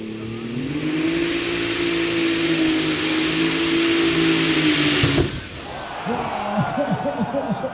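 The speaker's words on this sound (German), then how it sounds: "die Motoren drehen viel zu hoch, die gehen alle ganz hart in den Begrenzer rein" A pulling tractor revs hard at a tractor pulling Euro Cup final run, its engine screaming high and steady into the rev limiter before cutting off sharply, followed by lower throbbing engine pulses and crowd noise.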